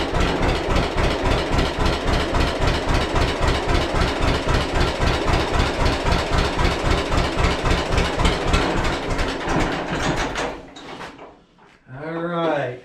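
A 1941 John Deere Model A tractor's two-cylinder engine chugs in a fast, even, loud pulsing rhythm for about ten seconds, then sputters out as it runs low on fuel, and a voice follows.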